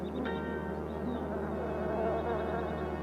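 African killer bees buzzing in a steady droning hum, close and continuous, with faint higher whines drifting over it and no talk.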